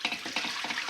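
Sea buckthorn water kefir is poured through a strainer into a pan, giving a close, splashy trickle of liquid with short irregular gurgles over about a second.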